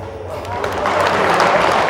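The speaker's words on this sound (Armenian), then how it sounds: "Դուք էլ բարևի տեղը կարաք օրինակ երկու ծափ տակ" An audience claps together as a greeting at a family gathering, a burst of applause that swells and stays loud and close for the whole short stretch.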